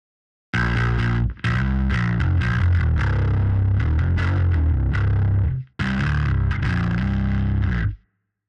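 Saturated, distorted bass guitar played through a tight noise gate, loud and sustained phrases that cut off abruptly to silence at pauses, with no talking.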